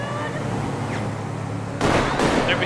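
Gunfire in a GTA roleplay police chase near a gas station: after a stretch of engine rumble, a couple of loud, sharp bursts of shots crack in the second half, close and harsh.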